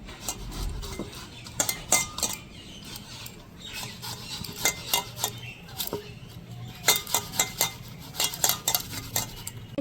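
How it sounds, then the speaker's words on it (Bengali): Watermelon flesh is rubbed against a metal grater by hand, giving scattered scraping clicks and clinks in uneven bursts, close and moderately loud over a low background hum. "এবার তরমুজগুলোকে এরকম একটা ঘষণির সাহায্যে ঘষে নিব যাতে সব রসগুলো বেরিয়ে যায়"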